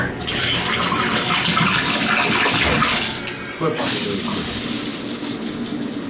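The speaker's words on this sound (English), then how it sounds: "we're going to check the hot water" Hot water runs hard from a tap in an apartment, a loud, close, steady gush that dips briefly midway before resuming, with a single short spoken word near the start.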